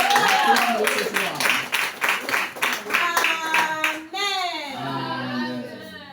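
A church congregation claps in a steady rhythm, loud and close, with voices acclaiming; then the clapping stops and a sustained sung or shouted voice carries on alone.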